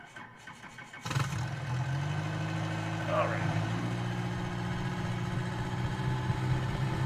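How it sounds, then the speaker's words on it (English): A Bell 47G helicopter engine in a flight simulator game cranks up abruptly after a second of quiet, then settles into a steady, rumbling idle hum. Someone speaks briefly over it. "we're going to hit the engine starter"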